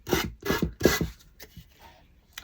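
A finger sander works over a wooden step stool, giving three loud bursts of rasping abrasion in quick succession, then quieter scattered scraping and a final short rub.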